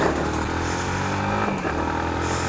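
A Yamaha MT-15 motorcycle's exhaust note holds a steady, loud mid-pitched drone throughout, with a slight dip in engine pitch partway through, close to the listener and free of any talk.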